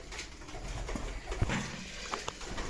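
Young pigeons coo softly nearby in a continuous low murmur, with light pattering and a few small knocks.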